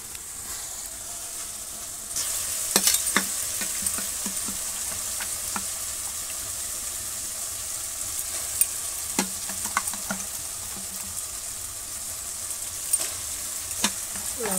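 Chicken meat sautéing in a spiced masala over a country coal fire in a village kitchen, a steady close sizzle and fry with occasional sharp clicks and stirring scrapes throughout.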